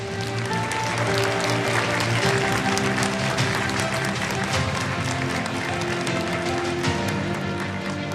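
A large audience at the 2023 HWPL Global Peace Leaders' Conference gives a big round of applause, a dense, steady wash of clapping that holds at an even level throughout.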